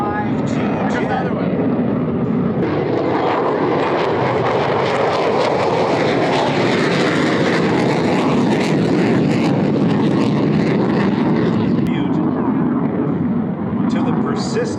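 F-16 fighter jet at an air show flying over, a loud, sustained broadband engine roar that swells and holds steady throughout, with faint crowd or commentary voices mixed beneath.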